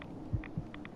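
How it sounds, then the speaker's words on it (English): Low-health heartbeat warning in Fallout 4 on a Glowing Sea run: two dull, close thumps about a quarter second apart, low and soft over a faint hum. "If I didn't hear my heartbeat there, then I would have just let myself die."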